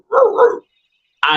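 A man imitates a dog with his voice, giving two short barking bursts separated by a brief pause, close and loud, with no other talk.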